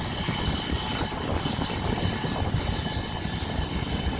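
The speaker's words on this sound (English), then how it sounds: "And there's another one, DC-10 or MD-11, whatever." A DC-10 firefighting air tanker flies near Pocatello Airport during wildfire runs, its engines giving a steady, loud, broad roar that holds evenly throughout, with no voices.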